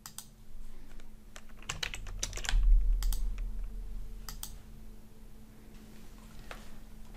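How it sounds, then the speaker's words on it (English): Rapid typing on a computer keyboard fills the stretch, irregular bursts of close, crisp keystrokes with short pauses and a low steady hum underneath. "You can type the names in here"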